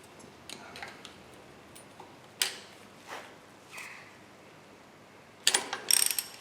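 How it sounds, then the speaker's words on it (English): A ratchet wrench works on a Toyota MR2 engine near the oil pump, making a few short bursts of quick metallic clicking separated by quiet pauses, with a louder flurry near the end. "Let's try a bigger ratchet."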